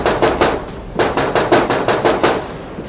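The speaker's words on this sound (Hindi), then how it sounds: "बड़ी ही बुरी तरह दरवाजा खटखटाने की आवाज आई" Loud, hard knocking on a door, repeated blows in quick uneven bursts of two and three, close and forceful with no talking.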